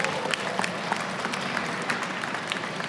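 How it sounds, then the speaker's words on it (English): Audience at a Caged Aggression cage fighting event in Iowa applauding, a steady wash of close and distant clapping from a crowd that carries through the whole stretch. "Let's give all them a round of applause"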